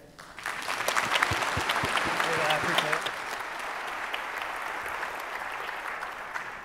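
Conference audience in New Orleans applauding to welcome a speaker, a dense, steady wash of clapping that swells quickly after a brief voice at the start and then holds evenly before easing slightly.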